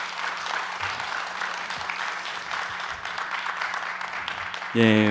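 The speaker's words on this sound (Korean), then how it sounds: "다시 한번 감사드리며 큰 박수 부탁드립니다." A church audience at an evening letter-reading lecture gives steady, moderately soft applause, with a brief burst of voice or sound rising at the very end.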